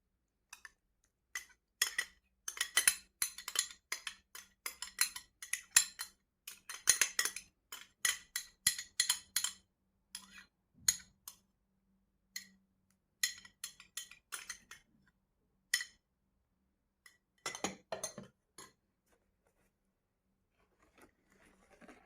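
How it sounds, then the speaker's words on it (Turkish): Cake batter with yogurt whipped by hand with a whisk in a bowl, quick rhythmic scraping and clinking strokes in bursts with short pauses, close and fairly quiet, then fading near the end. "Gördüğünüz gibi ben çırpıcı kullanıyorum."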